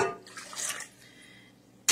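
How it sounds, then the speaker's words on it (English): Half a cup of warm water poured into a yeast and sugar mixture, a brief close splash and trickle that tapers off quickly, followed by a short clatter at the end. "then we're going to add 1/2 cup of warm water"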